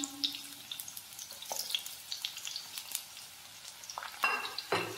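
Onions and green chillies frying in hot oil, a faint crackling sizzle broken by scattered clinks of a utensil on the pan, quiet and close with no talk.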